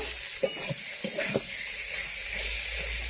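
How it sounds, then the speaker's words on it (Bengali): Steady hissing sizzle of taro leaves frying in a pan, with a few scraping stirs and taps of a spatula. "কচুর শাকটা ভাজা ভাজা হয়েছে"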